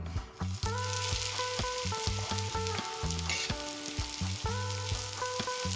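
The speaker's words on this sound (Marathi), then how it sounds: "त्याच तव्यामध्ये मी थोडंसं ऑइल टाकलं इथे आपल्याला झिंगे भाजून घ्यायचे आहे" Steady sizzling of prawns roasting in a little oil on a pan over low flame, with a dense crackling hiss throughout and some tonal clatter and scraping underneath.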